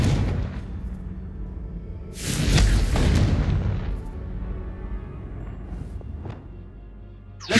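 A Confringo blasting spell explodes in the Hogwarts Legacy video game with a deep, loud boom that swells and rumbles for a couple of seconds, amid a low roaring background and followed by smaller bursts.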